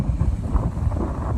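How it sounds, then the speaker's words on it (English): Strong wind gusts across a rocky sea cliff above the Aegean at Monemvasia, a steady low buffeting rush pressing on the microphone. "It's very windy here."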